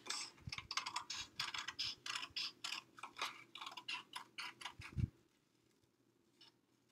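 Scissors cutting out a paper top hat for a snowman treat holder, making a quick, steady run of faint, close snips for about five seconds before going quiet.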